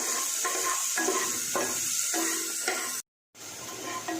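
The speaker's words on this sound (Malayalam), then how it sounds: "മഷ്റൂംസ് നല്ലോണം സോട്ട് ചെയ്ത് എടുത്തിരിക്കുന്നു." Chopped mushrooms sautéed in a pan during a children's cooking competition, giving a steady sizzle with rhythmic stirring scrapes about every half second, broken by a brief silent gap.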